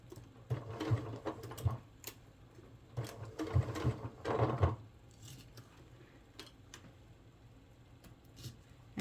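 A sewing machine stitches a fanny pack along a curve in short bursts of rapid mechanical whirring and clatter, close and fairly quiet, pausing between runs and falling silent near the end.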